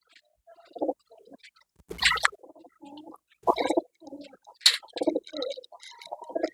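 Domestic pigeons kept by a hobbyist coo in soft, low, repeated bursts close by, with a few sharper flutters and clicks in between, and no talking.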